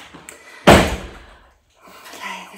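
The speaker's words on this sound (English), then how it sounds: "Ray, shut the door" A house door is pushed shut with a single loud, close slam that fades out quickly, followed by quiet room sound.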